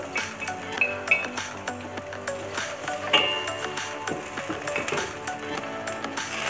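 Sliced onion stir-fried in a pan as the base for Filipino chicken adobo, with a steady low sizzle under repeated metallic clinks and scrapes of a utensil against the pan, close and continuous.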